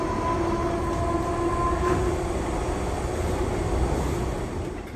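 An underground metro train runs through a station, a loud, steady rumble of wheels and carriages close by. A faint whine from the rails rises and fades over it, with no talking.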